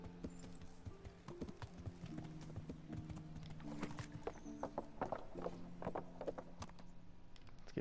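Hooves of a horse clip-clop in the video game Kingdom Come: Deliverance, a rhythmic, close series of hoofbeats with an occasional snort or whinny mixed in.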